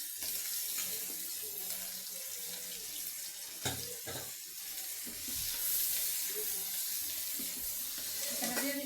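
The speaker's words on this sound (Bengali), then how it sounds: "এখানে দিয়ে দিলাম পেঁয়াজ কুচি" Chopped onion frying in oil in a pan after fish has been fried, a continuous, rushing sizzle with occasional clicks and stirring knocks, moderately close and fairly quiet.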